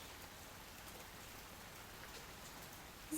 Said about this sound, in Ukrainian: Що можна сказати про дощ? Який він? Дощ дрібний